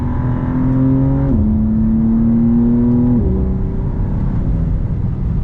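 A 2024 BMW M2 CS engine drones loudly from inside the cabin while accelerating, its pitch climbing steadily and dropping sharply twice as quick paddle upshifts snap through the gears, no voices.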